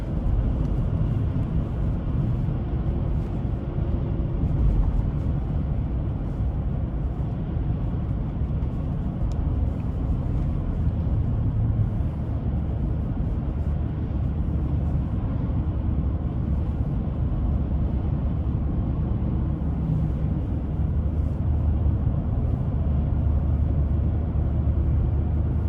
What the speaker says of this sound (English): We'll give some throttle here.